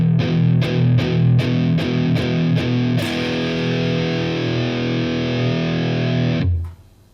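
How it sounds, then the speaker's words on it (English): A distorted electric guitar picks one measure of eighth notes, eight evenly spaced attacks, then rings out on a long sustained E that holds for a few seconds before cutting off abruptly. "I'm playing one measure or 4 beats worth of eighth notes"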